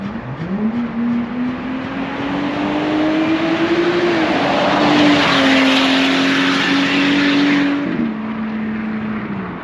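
A 2020 Jeep Wrangler JL fitted with an Edelbrock Eaton TVS R1320 supercharger accelerates, its engine note climbing and holding through gear changes, loud and close, with little supercharger whine.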